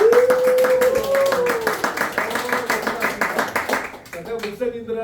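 A crowd at a political support rally claps in quick rhythmic bursts while a voice rises over the start and other voices chatter, the clapping tapering off near the end.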